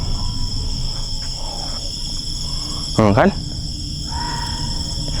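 Crickets chirping at night, a steady high-pitched trill running throughout, with geckos around and a brief voice speaking over it.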